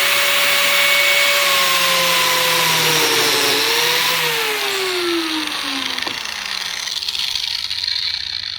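A biscuit joiner whines loudly up close as it cuts a slot into flat wood boards, its motor pitch dipping under load and then winding down, with no talk.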